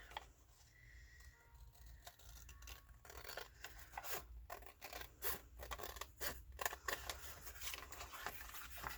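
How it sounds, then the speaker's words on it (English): Scissors snip and rasp through a collaged paper bag in a continuous run of quiet, close cutting strokes with small crinkles of paper between them. "now I just want to cut this out"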